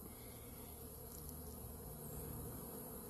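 Bees flying back and forth between a trailer and beehives at an apiary, a steady low droning hum of many insects filling the air without a break.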